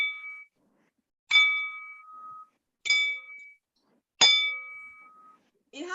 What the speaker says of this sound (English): It has this bell.